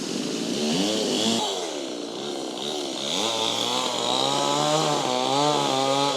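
A chainsaw runs continuously while felling trees at a house construction site in Thailand, its engine loud and close, whining and rising and falling in pitch as it revs through the cut, with no talking.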